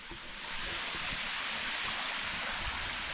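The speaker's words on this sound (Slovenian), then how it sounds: "Res globok, lep slap, kar divjina." A waterfall in a deep, wild river gorge in central Istria roars as a steady, broad rush of falling water, continuous and fairly distant, with no voices over it.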